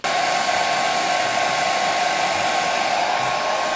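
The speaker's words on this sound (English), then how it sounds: "So now I have to blow dry it." A hair dryer blows steadily and loudly at close range for the whole stretch, drying hair with a constant even whoosh and no pauses.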